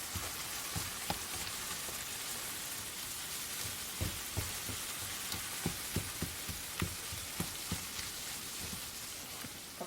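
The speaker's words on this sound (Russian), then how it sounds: "фарш обжаривается" Minced meat fries in a pan, a continuous crackling sizzle with scattered sharper pops and spits throughout, fairly close and steady without talk.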